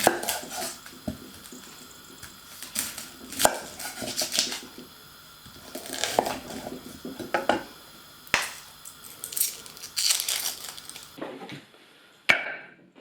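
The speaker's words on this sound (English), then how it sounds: "peel and finely chop the onions." Onions peeled and finely chopped on a board for a chestnut and cranberry stuffing, with irregular sharp knife knocks in uneven bursts, then a sudden drop to near silence at the end.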